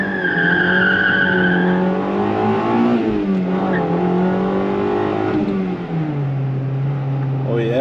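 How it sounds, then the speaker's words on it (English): A Honda Integra Type R launches hard with its tires spinning. The engine revs rise and fall close by, tire squeal and wheelspin sit underneath, and the high whine climbs in steps through the gears before the car settles into a steady drone. "She spins the tires way better than the EK9."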